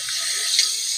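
Liquid pours into a small round bento container during meal prepping for freezer meals, a steady, close, hissy trickle lasting about a second with no talking.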